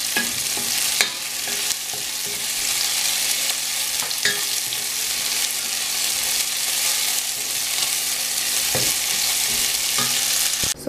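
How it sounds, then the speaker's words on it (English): Onions sauté in a pan, giving a steady close sizzle with occasional scraping stirs and clicks, no voices. "Going to saute these onions until they are like tender."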